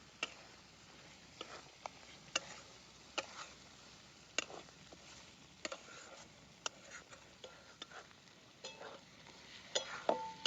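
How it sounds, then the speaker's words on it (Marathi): Ground masala of roasted onion, roasted coconut and coriander with turmeric and salt, frying in a pan for mutton vajri curry, with soft stirring scrapes and sharp ticking spatters at irregular intervals, quiet and close. "चांगला मसाला तळून घेतलाय"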